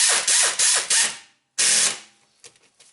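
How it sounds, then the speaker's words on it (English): Ratchet wrench clicking as it works rusty hub bolts on a Subaru hub assembly: three loud bursts of rapid ratcheting, a pause, then one more burst trailing into a few faint clicks, close up with no talking. "you can torque these down with your long reach metric wrench"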